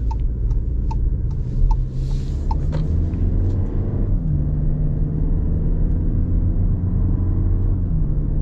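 A 2024 VW Tiguan with an 8-speed transmission accelerating, its engine a steady, close rumble that holds throughout, with faint ticking clicks near the start and no talk.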